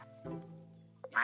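Ducks in Tiny Glade giving a few short, clear quacks, brief and fairly close, with a brighter burst at the end.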